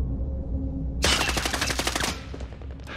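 Rapid automatic gunfire in the video game Warzone breaks out suddenly as a loud, dense burst of shots lasting about a second, then trails off into scattered fainter cracks.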